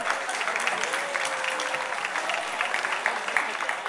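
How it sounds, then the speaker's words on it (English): Audience applause for UNICEF at an awards ceremony, a dense, even patter of clapping from a large crowd, with a faint tone and possible murmur beneath. "Round of applause for UNICEF."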